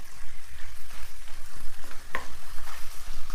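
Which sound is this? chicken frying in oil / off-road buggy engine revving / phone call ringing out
chicken frying in oil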